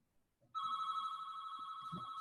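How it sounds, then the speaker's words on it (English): A telephone rings with a steady electronic bell tone, starting abruptly after a faint murmur and continuing loud and unbroken, with a brief low thump near the end. "There goes my phone."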